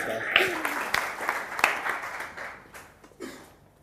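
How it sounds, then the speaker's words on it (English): An audience at a Creative Mornings talk claps for a performer, a short burst of applause from a moderate distance that fades over a few seconds. "So just give Jim a round of applause for me."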